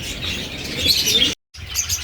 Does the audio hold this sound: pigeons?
yes